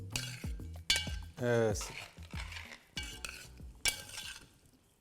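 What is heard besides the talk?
stirring fried vegetables and onion into gravy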